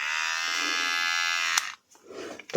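A repaired Nova NHT 1087-03 electric trimmer buzzes steadily up close for about a second and a half, then switches off, followed by faint handling sounds.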